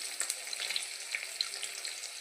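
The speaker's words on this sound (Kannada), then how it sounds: "ಹಾಗಾಗಿ ಈಗ ಈರುಳ್ಳಿನ ಹಾಕ್ತಾಯಿದ್ವಿ" Chopped onion frying in oil in a pan for chapati noodles, giving a steady soft sizzle with small crackling pops throughout, fairly quiet and with no voices.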